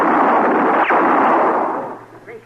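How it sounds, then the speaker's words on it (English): Gunfire in an old-time Western radio drama, a single loud burst with a trailing echo that fades over a couple of seconds, no voices over it. "You hit them both, Mr. Dillon. I only winged them. Don't shoot no more"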